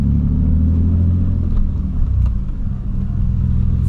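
An Audi 80 wagon, a home-restored project car from Brazil, idles and revs with a loud, steady low engine rumble up close, holding an even throb throughout with no voices.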